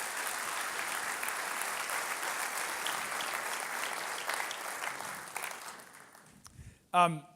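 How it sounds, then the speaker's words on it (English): Sustained applause from a large audience at a Building a Better Long Beach event, dense and steady, fading out near the end before a brief voice speaks. "let's give these projects a big round of applause"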